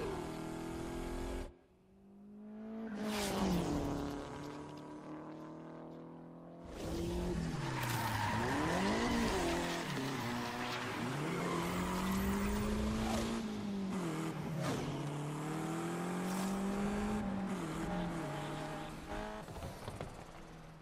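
A car in Need for Speed Unbound revs hard and skids for a long stretch, with continuous engine roar and sliding tire squeals that rise and fall, no talk.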